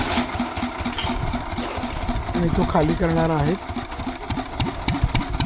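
A machine's engine removing silt from a farm well in Maharashtra runs with a steady, close mechanical drone throughout, while someone talks over it.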